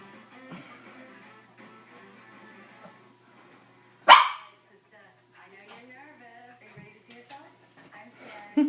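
A dog named Fluffy barks once sharply and loudly in a quiet room, with faint yips and a second bark starting at the end, while a person talks to her.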